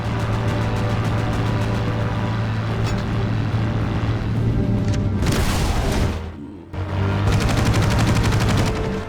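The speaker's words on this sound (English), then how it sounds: "land one bomb on the Boston Maru" Bombs striking Japanese transport ships in the naval combat game Battlestations Pacific: loud, continuous rumbling gunfire and blasts with a heavy bursting impact midway, a brief drop, then sustained roaring noise, with no talking.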